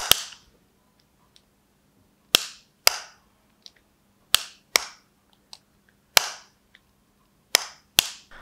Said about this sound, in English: the closing sound of both the cases